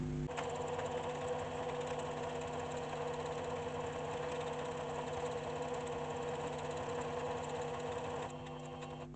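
Singer One Plus sewing machine stitching a decorative design on its own, a steady, fast mechanical whir with dense rapid needle rhythm running nearly the whole time, then easing as it finishes.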